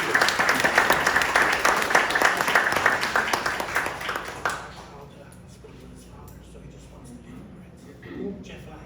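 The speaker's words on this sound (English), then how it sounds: "I'd like to give you a round of applause, please." Applause and clapping fill a municipal meet-the-candidates event for about four and a half seconds, dense and steady, then cut off abruptly to a quiet room with faint stirring.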